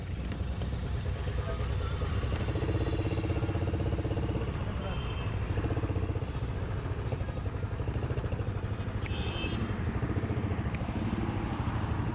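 Several motorcycles pull off and ride along an open road, a steady rumbling drone of engines near and far, with people talking over the noise throughout.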